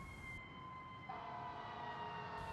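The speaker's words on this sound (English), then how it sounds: "The spectacle was temporarily dissolved by the wailing sirens" An advanced life support ambulance siren wails, heard faint and distant as steady, sustained tones that shift pitch partway through.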